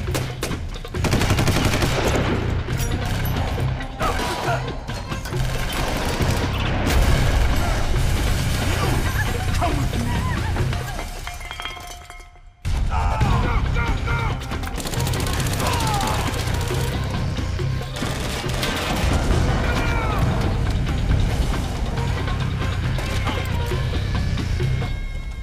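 Sustained gunfire from the Xbox video game Rainbow Six 3 Black Arrow, with dense bursts of automatic shots and crashes playing loudly throughout, a brief near-silent gap midway, and shouted voices mixed into the action.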